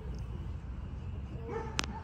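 A dog gives a short yip or bark near the end, fairly faint and distant, over a low background rumble.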